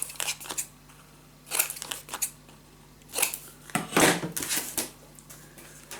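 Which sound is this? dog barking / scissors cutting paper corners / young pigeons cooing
scissors cutting paper corners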